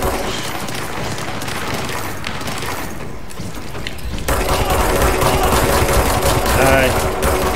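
Rapid automatic gunfire from the video game Control rattles loud and dense throughout, growing heavier in the second half, while a player talks over the shooting.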